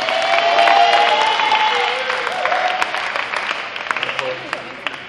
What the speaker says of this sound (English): Let's give Ms. Sherry Cannon a round of applause